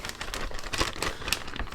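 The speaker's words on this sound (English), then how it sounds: "And then we will place everything into this plastic bag." Close, continuous crinkling of a plastic bag being handled, with irregular louder crackles and no voices.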